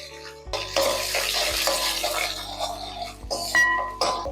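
Small shallots, a full handful, go into hot oil with curry leaves for a sardine curry. They give a bright, crackling sizzle up close, with clinks and stirring scrapes now and then.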